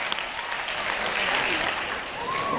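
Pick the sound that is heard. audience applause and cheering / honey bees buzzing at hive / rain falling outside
audience applause and cheering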